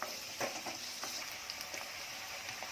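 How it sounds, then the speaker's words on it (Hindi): Onions sizzling in about two spoons of oil in an iron kadhai, a faint, steady frying hiss with soft stirring clicks throughout. "इसमें प्याज डाली अपनी, प्याज नरम होने तक भूनूंगी।"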